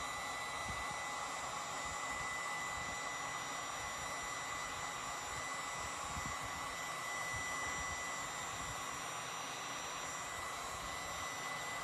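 A heat tool set on low blows hot air in a continuous, even whooshing hiss that holds steady for the whole stretch, close and fairly quiet, with no speech.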